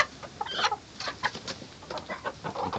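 A trembling chick with splayed legs, walking poorly among hens, gives a run of soft, quick clucks and peeps, close and fairly quiet, in irregular bursts over a faint background.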